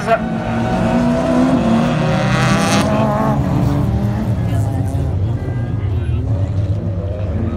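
Race car number 15 accelerates hard during a T4 national final at Ainay-le-Château, a loud close engine roar climbing in pitch, then continuing steadily under an excited commentator's voice.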